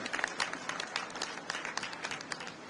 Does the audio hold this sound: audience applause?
yes